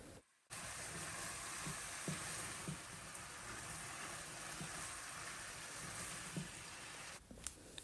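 Spring roll stuffing with vinegar, soy sauce, chili sauce, salt and black pepper is stirred in a hot pan, making a steady soft sizzle with a few faint scrapes and taps, and no one speaks.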